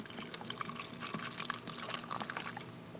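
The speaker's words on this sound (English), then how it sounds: "That's definitely a water bong." Bubbling and gurgling water from a water bong, a steady run of small wet pops and burbles at close range with no talk.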